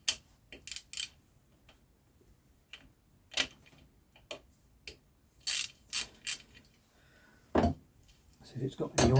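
A ratchet works loose the drain screw on the crankcase of an Ariel Arrow motorcycle engine during a teardown, sounding as short bursts of close, sharp ratcheting clicks separated by pauses, with someone talking in between.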